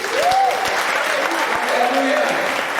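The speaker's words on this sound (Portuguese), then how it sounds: "pega a tua mão e aplauda ao Senhor." A church congregation claps continuously at an anniversary service, dense applause close by, while voices call out over it.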